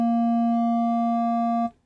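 A pure sine tone in VCV Rack modular software, passed through a wave folder that adds a few faint upper harmonics, holds steady and loud for under two seconds, then cuts off abruptly.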